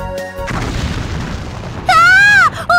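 An oven bursts into flame with a deep boom in the Galaxy Angel video game, a loud blast followed by a rushing roar of fire, then a sudden bright, warbling electronic tone that cuts in near the end.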